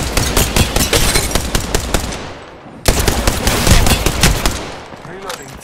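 Rapid automatic gunfire bursts in the video game Apex Legends, loud and close, with a brief pause midway before more sustained firing resumes.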